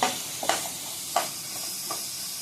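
Paneer kurma ingredients sautéing in an oily pan, stirred now and then, with a steady sizzle and a few sharp scraping clicks from the spatula, close and fairly loud, no voices.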